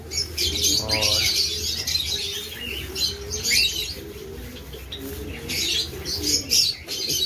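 Doves cooing and chirping in breeding cages, soft repeated coos and tweets overlapping through the whole stretch with occasional brief wing flutters, moderately close.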